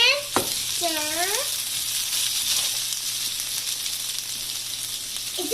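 Cooked potatoes sizzle in a pan as they are stirred, a continuous frying hiss with light scraping; a voice speaks briefly near the start.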